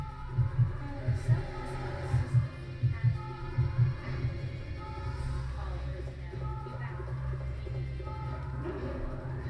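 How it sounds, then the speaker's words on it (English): A slow, throbbing heartbeat from the video game Resident Evil Code: Veronica X pulses in steady double thumps for the first half, then gives way to a sustained low hum. "Follow the sound of my heartbeat."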